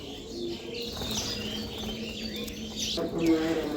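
Pet birds in a home colony, doves or pigeons among them, chirp and coo in short bursts at moderate distance, with a brief rustle of movement and a steady background hum.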